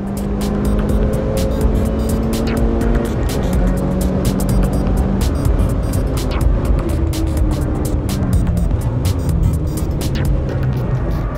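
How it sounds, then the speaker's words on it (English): A Mitsubishi Lancer Evo drives hard on a race track, heard close from inside the car. The engine drones loudly and its pitch rises and falls through gear changes, with rapid clicks and rattles over the top and no speech. "Then we stepped it up a notch and went for a ride in Brett's Evo Lancer."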